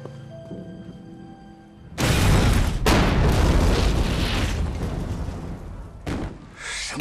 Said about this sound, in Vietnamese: Bị nổ rồi.